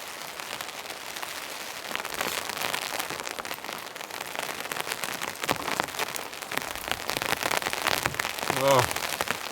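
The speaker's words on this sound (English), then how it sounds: "Rain's coming back." Rain falls steadily around a wooden shack, a dense close patter of drops on the roof and surroundings that grows a little heavier toward the end.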